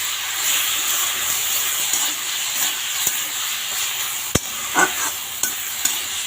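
Jute leaves fry in a pan with a little oil, giving a close, steady sizzle and hiss with a few sharp clicks and scrapes of stirring near the end.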